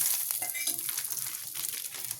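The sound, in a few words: gram flour and asafoetida frying in oil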